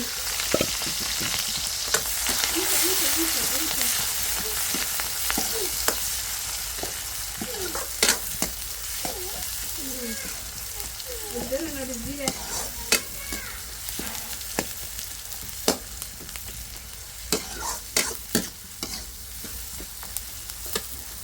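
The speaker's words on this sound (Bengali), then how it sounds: "এখানে একটু মাংস রান্না করবো এই জন্য তেল দিয়ে দিচ্ছি" Oil in a pan for cooking meat sizzles loudly and crackles without a break, with frequent sharp pops and spatters and some scraping of a utensil throughout.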